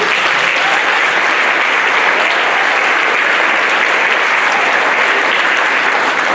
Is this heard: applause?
yes